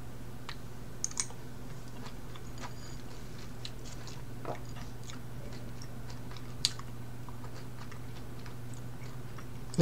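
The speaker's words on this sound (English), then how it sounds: "I decided to try some ranch dressing with these florets." Florets dipped in ranch dressing are eaten up close, with sporadic crunchy bites and chewing over a steady low background hum.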